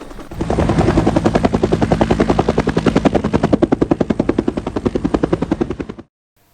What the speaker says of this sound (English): We had a visit from a UH-1N Huey